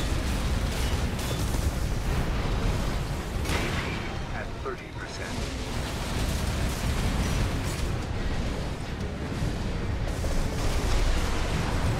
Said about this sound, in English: Everything's explosion in this game.